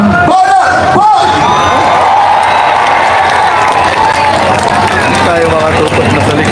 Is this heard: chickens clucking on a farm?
no